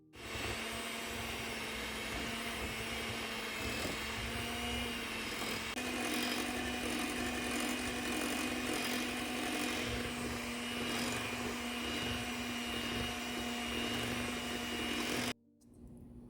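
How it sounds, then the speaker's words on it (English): An electric hand mixer whips shea body butter in a bowl, giving a steady, close motor whine with a gritty scraping texture that runs continuously for about fifteen seconds before cutting off. "We are now just going to start mixing it with our hand mixer."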